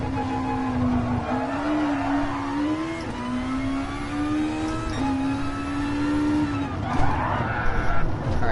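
A Porsche 911 Turbo in a racing video game brakes late and skids, its engine note holding a steady drone while tyre scrub runs continuously underneath for several seconds, with a rougher burst near the end.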